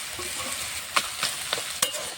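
Fried fish head pieces with boiled pumpkin leaves frying in a pan, a steady close sizzle broken by four sharp scrapes or stirs of a spatula, with no talking.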